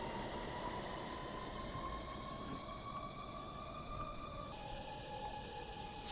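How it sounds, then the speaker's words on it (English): Steady rumble of a train running along tracks in the Minecraft Transit Railway game, with sustained tonal hums that shift pitch midway, heard alone at moderate level. "Feels like I'm actually on a real train going down the tracks."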